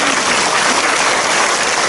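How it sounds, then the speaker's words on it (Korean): A church congregation applauds together during a worship service, giving a steady, dense wash of many hands clapping at once, loud and close for the whole moment with no clear gaps or single claps standing out. "주님께 영광의 박수 드리겠습니다."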